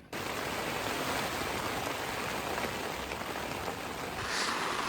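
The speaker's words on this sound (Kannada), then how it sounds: "ಇವಾಗ ನೋಡಿ ಗೊತ್ತಾಗ್ತಾ ಇದೆ ಮಳೆ ಆಹಾ ಹೆಂಗೆ ಬರ್ತಾ ಇದೆ ಅಂತ" Heavy monsoon rain pouring down, a constant, even broadband roar of water with no pauses and no voices over it.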